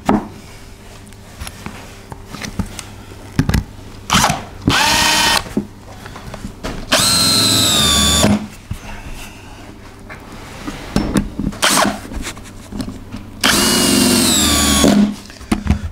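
A power drill drives screws into a homemade wooden door for a Nauticus 27 ft cruiser boat, with several loud whirring bursts of a few seconds each, separated by quieter handling clatter, close by.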